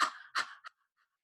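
A person breathes in quick, forceful pants, two strong huffs and a shorter third one, close and alone, as part of a rhythmic breathing exercise.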